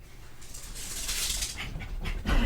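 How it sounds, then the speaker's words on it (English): Dogs tearing around indoors, with close, heavy panting and a few soft whimpers that grow louder toward the end. "The weird noises are the dogs tearing around."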